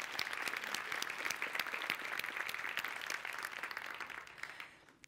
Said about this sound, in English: it's really in my heart to just think it's worth a big round of applause for Kathy and Mary